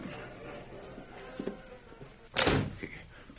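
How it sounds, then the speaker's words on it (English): A door is shut with a single solid thunk after a quiet stretch, along with some faint rustling before it. It is close and moderately loud, and no one speaks. "I'll close the door."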